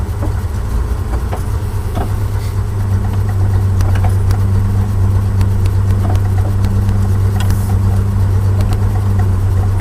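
A Datsun 240Z driven through heavy traffic gives a steady low engine drone, loud and close and constant for the whole stretch, with faint road and cabin noise on top and no talk.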